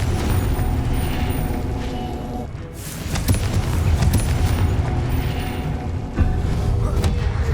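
Booming blast of the Confringo fire spell in the Hogwarts Legacy video game during a boss fight, a loud, dense rumbling explosion with crackling bursts and steady game noise throughout.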